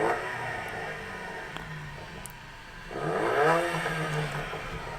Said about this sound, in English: This is an MBRP Race Series exhaust.